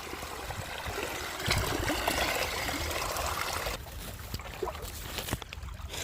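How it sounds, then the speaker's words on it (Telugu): Irrigation water runs steadily along a channel in a farm field, a continuous close trickling and gurgling flow with occasional splashes and no talking. "ఇంకా నీళ్ళు ఇప్పుడు చూడు మళ్ళీ అట్లా ఎలాగ వెళ్తున్నాయో ఇలాగ వెళ్తాయి"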